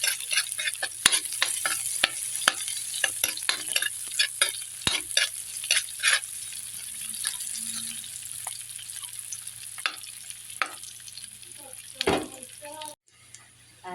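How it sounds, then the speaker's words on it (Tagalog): Garlic and onion sautéing in a pan: a constant bright sizzle under repeated close scrapes and knocks of a stirring utensil, with a brief pause near the end. "Mag-start na tayo magmetos-metos ng bawang at sibuyas."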